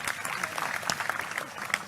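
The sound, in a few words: audience applause for the first group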